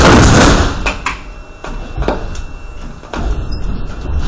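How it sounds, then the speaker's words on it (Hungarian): Doors of a Budapest M3 metro train slide shut amid loud broadband carriage noise, with a few dull thuds and knocks as the panels close. "Kérem, vigyázzanak, az ajtók záródnak."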